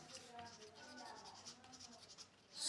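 A pen scratches out a maths solution on paper in soft, close, irregular strokes. The writing stays faint under someone talking.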